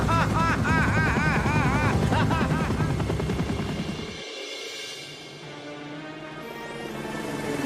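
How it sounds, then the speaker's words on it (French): Cartoon helicopter from Totally Spies!, a steady loud rotor-and-engine drone with a fast chopping pulse, fading partway and then swelling back up. "Dépêchez-vous, un hélicoptère vous attend."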